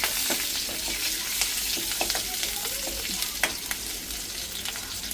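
Curry leaves, garlic and fennel seeds temper in hot oil with a busy, close sizzle full of scattered crackles and pops, continuing without speech.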